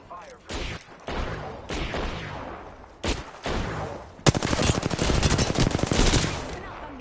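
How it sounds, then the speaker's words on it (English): Gunfire in Apex Legends starts as scattered bursts between pauses, then becomes a loud, sustained automatic rattle of rapid shots at close range, with a voice briefly heard. "Open up, I'm getting shot at."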